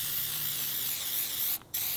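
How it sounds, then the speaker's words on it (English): A spray can sprays paint onto the clamp of a scooter during a deck repaint, one loud continuous hiss close by, briefly pausing near the end, with no talk. "Oh, I gotta spray the clamp."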